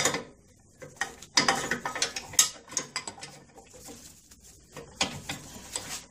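A gear puller is worked onto a stuck gearcase, producing irregular close metallic clicks, ratcheting ticks and clanks in short clusters separated by quiet gaps.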